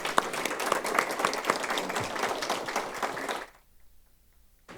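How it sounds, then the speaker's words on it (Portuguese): An audience at a formal solemn session in a legislative assembly, honoring a radio station's anniversary, bursts into a dense, loud round of applause that runs about three and a half seconds, then cuts off sharply into near silence. "uma salva de palmas para ele"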